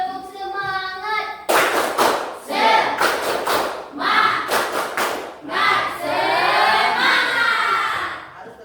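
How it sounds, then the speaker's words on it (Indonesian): A standing group performs a rhythmic spirit clap in bursts of hand claps with shouted chanting between them, loud and close, with a speaking voice at the start. "Kita tepuk semangat dulu."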